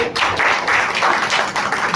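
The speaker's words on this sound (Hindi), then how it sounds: "जोरदार तालियां होनी चाहिए" An audience claps at a theater event honoring a guest with a shawl and flowers, a moderate wash of many hands swelling in loose waves, fairly close and uninterrupted.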